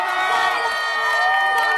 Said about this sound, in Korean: 우리 클로버 여러분 다시 한번 큰 박수와 함성 주세요.